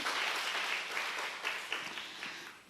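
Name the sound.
applause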